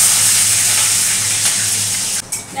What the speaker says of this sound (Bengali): তেজপাতা আর শুকনো লঙ্কা ফোড়ন, সাথে দিয়ে দেব সাদা জিরা ফোড়ন। চেরা কাঁচা লঙ্কাও ফোড়নে দিয়ে দিচ্ছি।